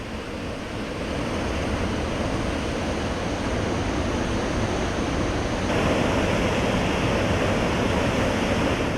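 Floodwater pours through eight raised gates of the Jurala project dam in Mahbubnagar district, making a loud, unbroken rushing roar with no voices over it.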